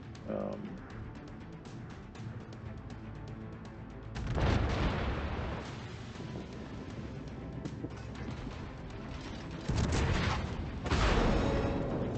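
Kronshtadt cruiser guns fire in the World of Warships naval battle game, with two heavy booming salvos rolling out over a constant engine and water drone while a voice talks across the scene.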